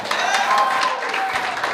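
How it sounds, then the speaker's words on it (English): An audience at a basketball symposium claps in a brief, dense burst, with cheering voices mixed into the applause at moderate distance. "Let me hear you clap for that."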